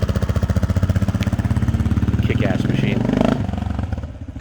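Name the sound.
KLR motorcycle engine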